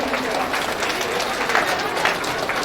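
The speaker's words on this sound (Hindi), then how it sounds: "ताली बजती रहनी चाहिए।" Audience applause at a company foundation day celebration, dense continuous clapping mixed with crowd noise and voices, steady and loud.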